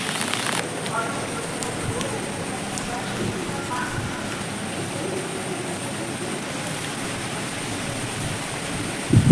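Steady rain hisses on a rooftop garden during several days of continuous downpour, a dense, even wash of drops that holds unbroken throughout with no voices.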